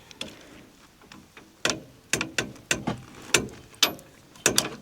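A ratchet wrench clicks in a series of sharp, separate ticks with uneven pauses while a fitting on a wildfire protection trailer is tightened, close and fairly loud with no talk.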